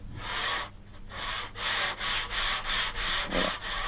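Coarse 80 grit sandpaper on a block rubs back and forth across a windsurf board deck in steady, loud strokes of roughly half a second each, close up and alone.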